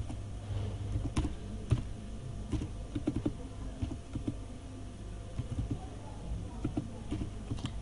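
An ID card number is typed on a computer keyboard in a series of quick, crisp clicks. The tapping has an uneven rhythm with short pauses, close and fairly quiet over a low room hum.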